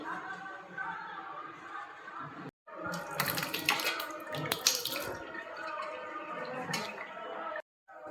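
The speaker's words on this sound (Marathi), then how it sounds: "आता यामध्ये थंड पाणी घालून हे स्वच्छ धुवून घेऊ" Cold water poured over fresh paneer curds held in a cloth to rinse them: a continuous close splashing, gurgling pour that swells louder midway, with brief silent breaks.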